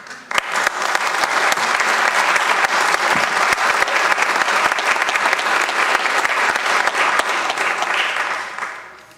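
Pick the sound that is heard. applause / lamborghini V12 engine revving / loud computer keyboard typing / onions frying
applause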